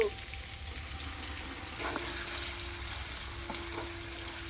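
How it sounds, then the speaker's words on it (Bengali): Meat fries in a pan with onion and green chilli for homemade pasta, giving a moderate, steady sizzle with faint stirring scrapes. "এখন দিব মাংস"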